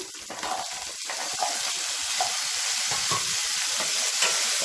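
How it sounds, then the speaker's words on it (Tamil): About thirty small onions sauté with a little tamarind in a pan, giving a continuous close sizzle with light scraping and stirring noises throughout, and no voices. "இதோட ஒரு 30 சின்ன வெங்காயம் சேர்த்துக்கலாம்."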